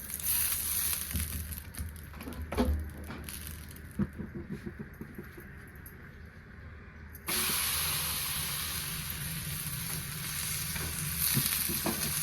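Steady frying sizzle and hiss from a drumstick paratha on an oiled griddle, with a few soft scraping taps early on, then a louder, fuller sizzle that continues to the end.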